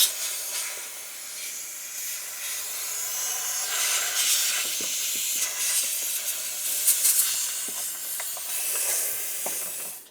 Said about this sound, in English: let's use some compressed air and make sure we have no dirt or debris in this area